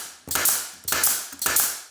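A Harbor Freight pneumatic brad nailer fires three nails in an even rhythm, each a sharp, close snap followed by a short hiss of air, with no talking.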